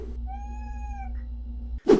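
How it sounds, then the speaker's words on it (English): A pet cat meows at a closed door, a single clear drawn-out meow up close with harmonics, followed by a short thump near the end. "she hears it and starts meowing at my door until I let her in"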